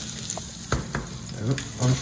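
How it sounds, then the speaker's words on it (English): Onions sizzle loudly in a hot pan while being caramelized, a steady crackling hiss with a few clacks and stirring sounds up close. "You hear that sizzle?"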